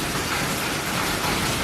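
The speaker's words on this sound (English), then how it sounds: "Those are probably like marble-sized hail balls." Marble-sized hail falls in a monsoon storm onto the ground and garden plants: a dense, steady hiss of pelting impacts, loud and close, with no talk.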